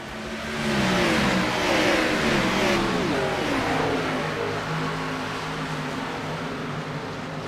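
Pack of sim race cars in a racing video game roaring off together at the green flag start of the Cactus Classic, a loud, dense swell of revving engines climbing in pitch, then settling into a sustained drone.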